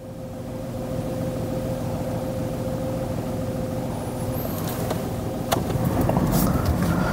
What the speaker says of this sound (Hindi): इस कार की नॉइस। आप नॉइस एक बार सुनो।